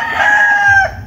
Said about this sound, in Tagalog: Ito yung mga ibang manok. Mga manok-manok nila dito.